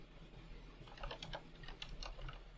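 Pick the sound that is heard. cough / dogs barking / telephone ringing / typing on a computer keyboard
typing on a computer keyboard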